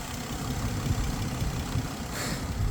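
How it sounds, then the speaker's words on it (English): Engine of a 2013 Ford F-150 idles steadily with a low, constant rumble and a faint exhaust tick, heard close and alone without any voices. "it sounds like maybe like a little exhaust tick or something"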